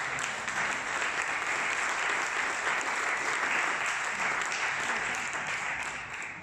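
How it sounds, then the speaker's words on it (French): A theatre audience at a book-industry event in Geneva's Théâtre Pitoëff claps for a speaker coming on stage, a steady, dense round of applause lasting several seconds that fades slightly at the end. "j'ai le plaisir d'accueillir sur scène notre premier orateur, Yvan Slatky, qu'on peut applaudir"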